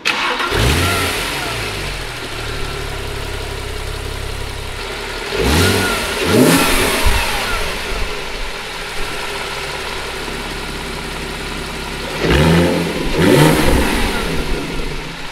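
A car engine fitted with an Evox valved exhaust cranks and starts, settles into a steady idle, then is blipped in two loud revving bursts several seconds apart. It sounds close, with no talking.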